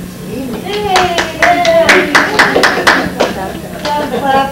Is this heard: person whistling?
no